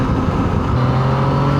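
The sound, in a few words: motorcycle with CP3 engine accelerating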